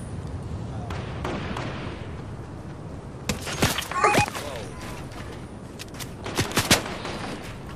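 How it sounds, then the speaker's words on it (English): Scattered video game gunfire in an online shooter, with bursts of shots exchanged at moderate distance, clustering loudest in the middle and near the end, while players talk over the action. "he's over there. He's shooting at me."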